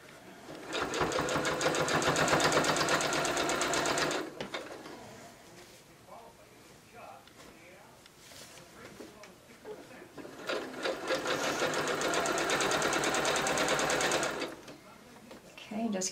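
A sewing machine stitches around fabric in two long steady runs of continuous whirring, with a quieter pause between them as the fabric is repositioned.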